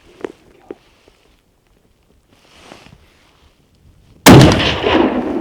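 Hunting rifle shot during a backcountry New Zealand tahr hunt, a single loud, sharp blast near the end with a long rolling echo, preceded by faint footsteps and quiet rustling.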